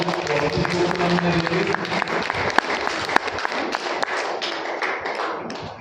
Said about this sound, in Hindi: तो ऐसी मीनाक्षी दीदी के लिए जोरदार तालियां।